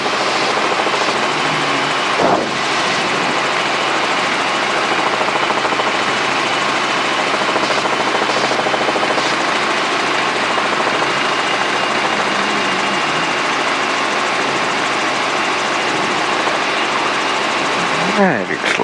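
A helicopter's engine and rotors drone loudly and steadily throughout power-recovery autorotation practice at KCGI, with a brief thump near the start and another near the end. An instructor's voice sits faintly under the noise.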